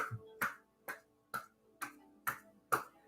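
Cupped hands pat the body during a qigong session, six evenly spaced hollow slaps about half a second apart, close and moderately soft, with no talking.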